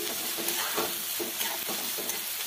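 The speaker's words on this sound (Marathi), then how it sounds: "कांदा चांगला परतून घ्यायचा" Onions sautéing in oil in a pan for egg bhurji, a steady sizzle with rhythmic stirring scrapes every half second or so, close and moderately loud.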